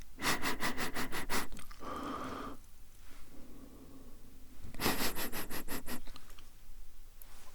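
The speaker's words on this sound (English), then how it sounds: "Get those nostrils right next to that bottle and give it a little sniff." Nose sniffs close to a bottle: a run of about eight quick, sharp sniffs, a softer breathy pause, then another burst of rapid sniffs, intimate and near in a quiet room.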